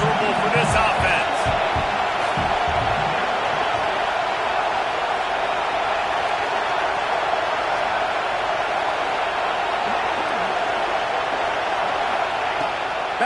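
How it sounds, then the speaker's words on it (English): Stadium crowd in a Madden football video game, a dense, continuous roar that holds at an even level from start to finish, with a few sharp knocks early on. "This crowd trying to make life miserable for this offense."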